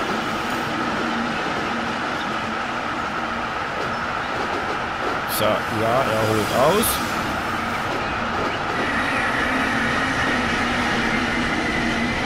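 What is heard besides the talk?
train entering a station in video game Transport Fever 2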